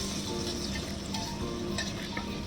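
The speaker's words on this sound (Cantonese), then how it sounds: "放啲鹹水梅肉，簡單爆一下。" Salted plum flesh stir-fried in a hot wok, with scallion and ginger slices, giving a steady, dense sizzle under soft scraping and stirring, close and continuous.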